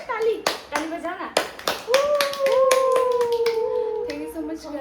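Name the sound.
children clapping hands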